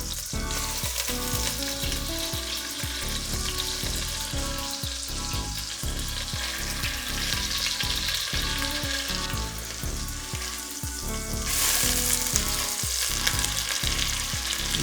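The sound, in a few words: pork tenderloin sizzling in a pan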